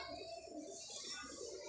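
Pigeons at a pigeon club coo softly and steadily, a low, faint, continuous murmur with no talking.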